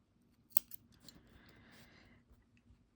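Scissors snip off a yarn end on a knitted koala toy, one sharp close cut with a small second click, then quiet handling rustle.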